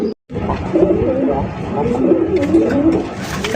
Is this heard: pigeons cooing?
yes